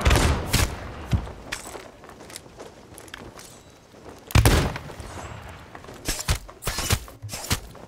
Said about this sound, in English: They're about to shoot a person at us via a cannon.